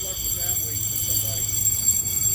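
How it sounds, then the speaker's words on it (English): A fire alarm sounds inside a Manchester, New Hampshire police station lobby, a steady high-pitched electronic tone holding throughout at constant loudness over a low background hum. "And now the alarm's going off."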